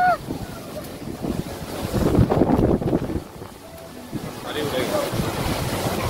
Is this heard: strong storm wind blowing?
yes